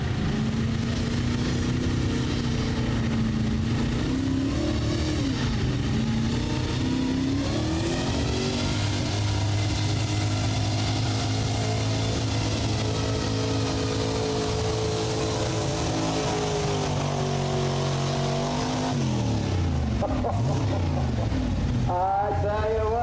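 A pulling truck's engine roars and revs hard through a long run at a Hardin County truck and tractor pull in Findlay, Ohio, the note bending and climbing loudly with an announcer talking over it.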